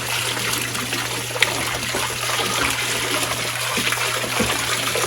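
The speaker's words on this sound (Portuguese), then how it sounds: "Aqui, ó, coando com água." Water trickling and splashing steadily as tapioca starch (goma) is strained through cloth for making flour, a continuous close wet pour with faint knocks and a steady low hum underneath.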